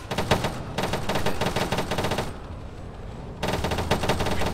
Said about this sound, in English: Whoa, we're getting shot at.